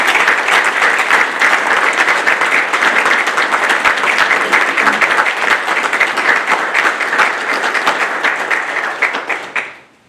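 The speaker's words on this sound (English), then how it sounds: "Family and friends, please join me in a round of applause for the Navy's newest 3rd Class Petty Officers." Family and friends at a Navy Nuclear Field A School graduation give a long, loud round of applause for new third class petty officers, dense steady clapping from a large crowd that fades out abruptly at the end.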